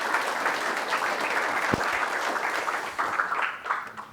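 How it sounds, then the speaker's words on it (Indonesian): Audience at an advocates' swearing-in ceremony in Jakarta clapping steadily throughout, a dense close burst of applause from a large indoor crowd that swells again near the end. "Kita berikan aplaus yang meriah buat kita semua."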